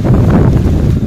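Strong wind gusting outdoors, a loud, steady low roar buffeting the microphone throughout with no voices.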